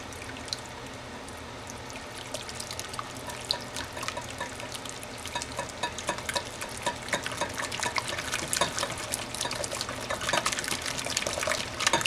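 Potato casserole ingredients, seasoned with salt and pepper, are stirred together in a bowl, giving a soft, steady wet squelching and scraping that grows slightly louder, close and alone.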